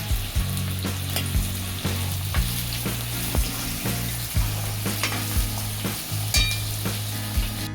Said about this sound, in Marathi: त्याबरोबरच आपण कांदा जो 2 चिरलेला बारीक चिरायचा आहे आणि तो टाकायचा आहे आणि कांदा गोल्डन रंगावर परतून घ्यायचा आहे.